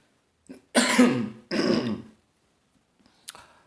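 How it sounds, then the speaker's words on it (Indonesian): Two harsh, rasping coughs in quick succession, close and fairly loud, followed by a short quiet pause and a faint click. "batuk"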